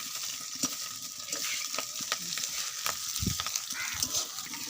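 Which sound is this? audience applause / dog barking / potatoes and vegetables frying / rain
potatoes and vegetables frying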